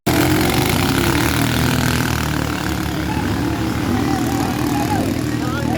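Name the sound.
racing boat engines starting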